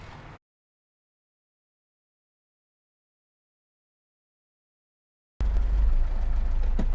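An old Mazda Miata engine bursts into a loud, close, low rumble after a long stretch of silence and keeps running steadily for the last second and a half, with no talk.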